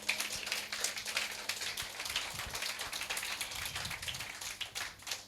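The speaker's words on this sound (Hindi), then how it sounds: "जोर से ताली बजाएं प्रभु के लिए।" A congregation claps during a Hindi church sermon: rapid, dense, overlapping hand claps that are fairly quiet and continuous, with a few sharper taps standing out and no talk over them.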